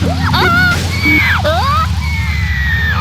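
A voice imitates a monkey's call with rising and falling whoops and squeals, loud and close over a steady low hum.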